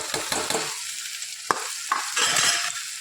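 Finely chopped okra (bhindi) sautéing in a pan over a medium gas flame, a steady sizzle with scraping stirs and a sharp utensil knock, close and clear with no talking.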